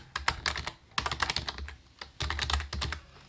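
Password being typed on a computer keyboard, close quick bursts of key clicks in three runs separated by short pauses.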